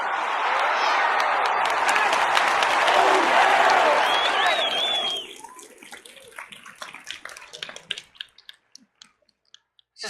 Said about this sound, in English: Give yourself a major stadium applause.